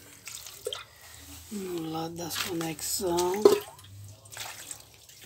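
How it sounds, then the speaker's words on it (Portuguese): Water splashing and dripping as it is poured over a computer motherboard being washed clean, heard under someone speaking Portuguese throughout. "jogar água novamente"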